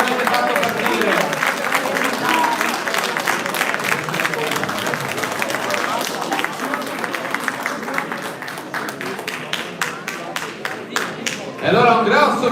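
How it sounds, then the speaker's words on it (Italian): Crowd at a regional youth sports tournament applauds loudly, sustained clapping with some shouting, fading slightly toward the end before a renewed swell, with an announcer's voice heard over it. "Vorrei un grande applauso forte, molto più forte di quello che avete fatto partire."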